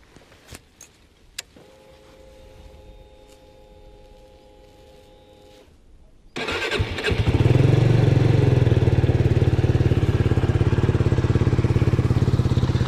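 After a few clicks and a soft mechanical hum, a 2021 Benelli TRK 251 motorcycle engine starts and settles into a loud, steady idle that runs to the end.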